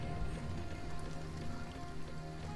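Steady rain patters continuously in the strategy game Empire Earth, a dense, even hiss of drops with no voices.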